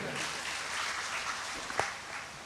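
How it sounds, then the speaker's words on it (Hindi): An audience claps for a poet at a poetry recital in Bhiwani's cultural hall, a steady wash of applause from many hands, moderately distant and even throughout. "एक बार तालियां अनीता जी के लिए"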